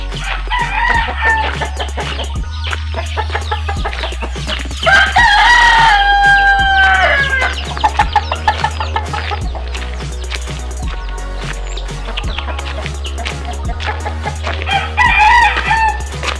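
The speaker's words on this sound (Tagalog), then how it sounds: "Manok." Roosters crow loudly and repeatedly over chickens clucking nearby, close and clear in an early-morning residential subdivision, with a steady low hum underneath.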